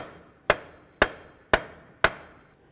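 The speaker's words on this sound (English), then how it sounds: "give this a couple loving bonks to break it free from the wheel bearing" Four sharp metallic strikes of a hammer on a punch against a Dodge Journey steering knuckle ring out at an even pace, each with a brief clanging decay, close up.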